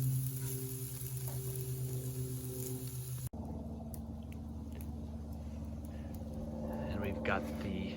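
Turkey cubes browning in a pan for capon in orange sauce give a low, steady sizzle and frying crackle, fairly faint, heard alone and continuing after a brief cut partway through.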